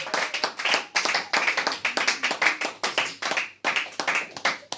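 A church congregation claps in worship, with rhythmic bursts of many hands beating in regular strokes and short gaps between rounds, moderately close and lively, with faint voices underneath.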